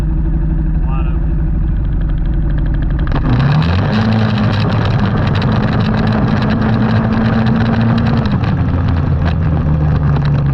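A CFMoto CForce 600 ATV run wide open in low range, 2-wheel drive, across an open field: after a brief idle, the engine snaps to a loud, sustained high-revving roar that holds strong, steady, and close.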